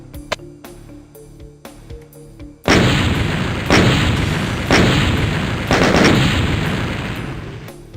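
A big gun in a GZDoom video game mod fires four heavy, booming shots at roughly one-second intervals, each with a long decaying rumble, after softer clicks and game tones, with no talk.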